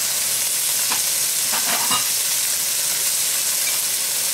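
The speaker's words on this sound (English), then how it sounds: "And then I'll put the garlic in" Garlic fries in a hot pan for a pineapple, vegetable and chicken stir-fry, giving a loud, steady, close hiss of sizzling oil with a few faint scrapes and clinks beneath.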